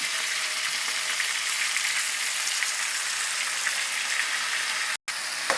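Drumstick curry frying in a pan as coriander leaves and tomato pieces go in: a dense, continuous sizzle like light rain, steady and fairly loud throughout, broken once by a brief gap.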